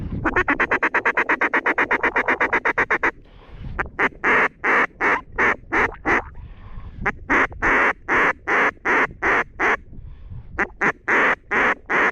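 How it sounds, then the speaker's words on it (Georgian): A duck quacks repeatedly during a duck hunt, with a fast, even run of calls at first and then spaced bursts of loud, close quacks with short gaps between them. "ეს იხვია"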